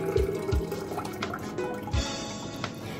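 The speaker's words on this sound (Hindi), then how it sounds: "अब आहिस्ता आहिस्ता जो मक्खन है उसे हम छानी में डालकर छानते जाएंगे। और जो लस्सी है वो मैं जग में निकाल लूँगी।" Homemade butter being strained through a sieve while buttermilk pours into a jug, a close run of wet splashes, drips and liquid trickling, with a few soft thuds and clinks.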